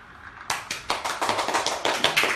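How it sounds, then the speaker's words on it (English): A small group claps at a Xiaomi Mi drone launch event, starting after a brief quiet moment and continuing as a close, fairly loud patter of separate handclaps. "And a little bit of applause."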